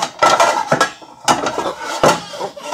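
Metal pots and pans clatter and bang loudly in a kitchen, several sharp clanks in bursts as cookware is shuffled around, close and alone.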